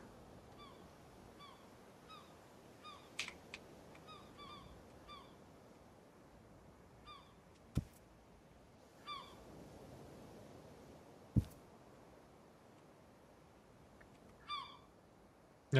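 Seagulls call in scattered honking cries across an ocean scene in the survival game Escape the Pacific, faint to moderate and repeated at irregular intervals over soft ambient wash, with a few sharp clicks between calls.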